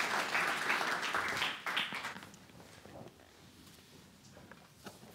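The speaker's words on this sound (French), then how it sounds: "Je pense qu'on peut les applaudir." Audience applause for round table panelists at a talk on child-friendly urban planning: dense clapping that rings out for about three seconds, then thins to a few scattered claps.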